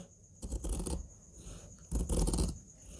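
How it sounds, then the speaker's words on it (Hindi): Scissors cut a rounded edge into shirt collar fabric in two distinct crunching strokes, each lasting about half a second, close and clear between short quiet gaps. "अब यहाँ पर हम हल्की सी कैंची से राउंड देंगे"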